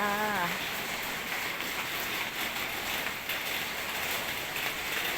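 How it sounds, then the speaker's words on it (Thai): Heavy rainy-season rain pours steadily onto surfaces, a dense, continuous hiss with a brief tonal sound at the very start and no talk. "ฝนตกชื้นเฉะ"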